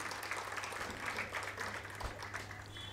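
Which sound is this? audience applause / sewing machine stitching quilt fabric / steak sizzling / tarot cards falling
audience applause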